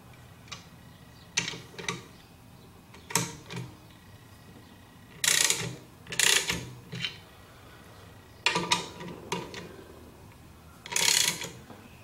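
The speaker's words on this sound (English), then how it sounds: "now I got my clutch on there, and I'm gonna tighten it up" Ratchet wrench clicking as clutch bolts are tightened on an electric car motor for a Civic EV conversion, short bursts of rapid metallic clicks separated by pauses, close and fairly loud, with no talk.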